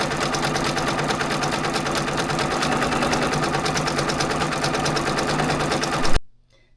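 An embroidery machine stitches a bridal piece with a fast, even, continuous mechanical chatter, close and steady for about six seconds before stopping abruptly.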